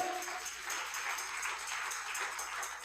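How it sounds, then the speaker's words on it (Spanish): A church congregation at a worship camp applauds, giving a steady, even wash of many hands that sounds fairly distant and faint, with no talking over it. "den un aplauso al Señor"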